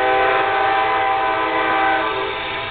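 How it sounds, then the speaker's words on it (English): A train passes close by, its horn sounding as a loud, sustained, harmonically rich blast over a low rumble that holds steady for a few seconds. "the train says hello."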